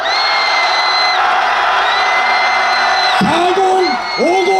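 Crowd at a Korean political rally against impeachment roars and cheers in a sustained, loud swell of many voices, with a amplified speaker's voice cutting in near the end.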